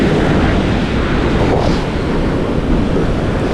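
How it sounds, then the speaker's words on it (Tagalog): Strong sea waves near a barge crash and churn in a loud, unbroken roar, heavily mixed with wind buffeting the microphone, no voices. "At sa sobrang lakas ng alon,"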